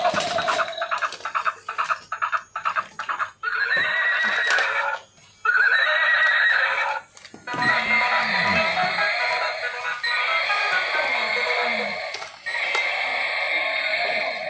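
A toy horse lets out repeated electronic neighs and whinnies, loud and close, with bursts of toy animal calls and croaks in between, and a child's play setting around it without talk over the sounds.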